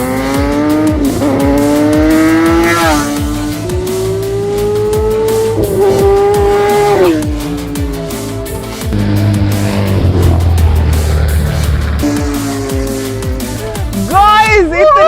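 A Porsche Boxster sports car and a Kawasaki Ninja ZX10R superbike in a drag race, engines revving hard with rising pitch sweeps and tire squeal, loud and close, while excited voices talk over the roar.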